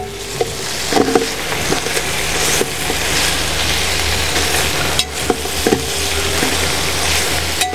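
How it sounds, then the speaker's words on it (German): Kale and sausages sizzle steadily in a Dutch oven while a spoon stirs them, with a few scrapes and knocks against the pot over constant frying. "Zwischendurch mal schön umrühren."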